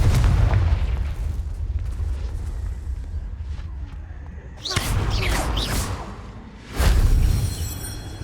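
Confringo blasting spell explodes in Hogwarts Legacy, with deep booming bursts, whooshing impacts and a heavy rumble that swells again near the end, loud and layered over game ambience.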